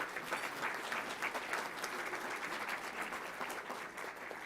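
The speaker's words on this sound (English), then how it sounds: "Let's give him a round of applause." Steady applause from a crowd, sustained clapping at moderate distance without pause for several seconds.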